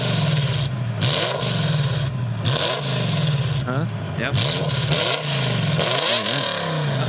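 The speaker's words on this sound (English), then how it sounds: "Looking up the V10 Insane F1 exhaust?" A recording of a V10 Formula 1 car's exhaust plays back, its engine note rising and falling through repeated revs, while people nearby talk briefly over it.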